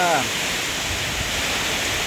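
Steady rain falls over a durian orchard in Buriram province, Thailand, a dense, even hiss of drops continuing throughout with no break.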